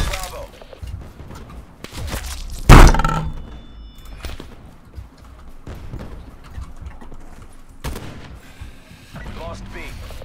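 A sniper rifle firing in the video game Call of Duty: Black Ops 4, one sharp loud shot early on amid game effects and voiced callouts, with softer thuds following.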